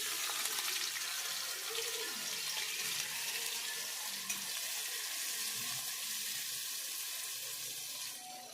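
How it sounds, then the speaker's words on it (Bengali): Fish frying in a pan, a soft, even hiss of sizzling oil that runs steadily at low volume and fades slightly at the end, with no voices. "পোস্তটা হয়ে গেলে মাছগুলো ভেজে রেখে দেবো"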